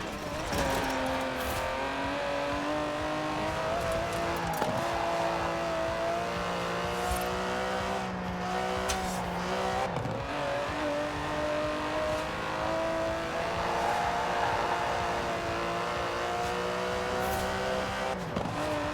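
An Aston Martin DB11 with its 5.2-litre twin-turbo V12 drones steadily in Forza Horizon 4, a sustained engine tone rising and falling in pitch with revs, close and loud throughout with no talk.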